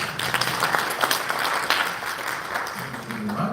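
Applause from a seated conference audience at a Uganda National Examinations Board event, a steady spread of many hands clapping that fades slightly toward the end.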